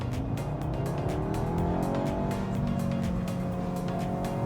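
An Audi S3 pulling hard in first gear in dynamic mode with manual shifting, its engine note climbing steadily and loudly through the revs, heard from inside the cabin, with no talking.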